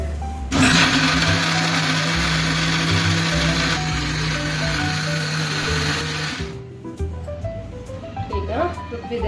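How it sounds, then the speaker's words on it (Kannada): A mixer grinder whirs loudly and steadily for about six seconds as it grinds spice masala for avarekalu sambar, then cuts off abruptly, leaving a quieter tonal background. "ಮಸಾಲೆನೆಲ್ಲ ರುಬ್ಬೋದಕ್ಕೆ ಹಾಕೊಳ್ಳೋಣ"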